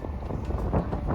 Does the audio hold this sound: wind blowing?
yes